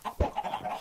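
A Minecraft chicken gives a brief burst of clucks, close and clear, lasting under a second.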